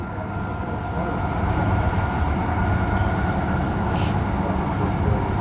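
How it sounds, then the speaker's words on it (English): A train rolls past outside a station in a continuous, loud rumble and roar that holds steady throughout, with a faint high squeal near the end. "There's the outside train."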